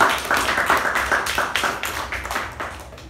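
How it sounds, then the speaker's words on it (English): Applause at a Toastmasters meeting: a small group clapping in a brisk, continuous patter that stays fairly close and slowly fades toward the end. "a big round of applause for Toastmasters Sharanye."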